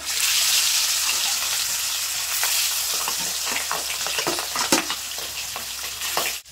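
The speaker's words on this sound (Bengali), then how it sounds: "একইভাবে যে বাকি মাছগুলো আছে ভেজে নেব" Pieces of boal fish fry in oil with a loud, steady sizzle and hiss, overlaid by intermittent scraping and clinking of a spatula in the pan close by.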